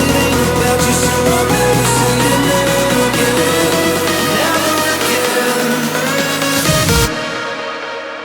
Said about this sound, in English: Now let's move on to the build-up section,